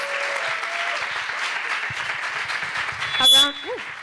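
An audience applauds a singer and her accompanist, a steady wash of clapping across the whole span, with a brief louder burst and a short voice near the end.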